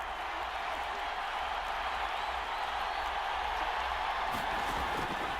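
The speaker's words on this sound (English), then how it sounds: "the crowd getting into it as we come up on a big 3rd down" Steady roar of a stadium crowd cheering in Madden NFL 22 as a big third down approaches in a Bengals game, a continuous loud wash of noise with no clear breaks.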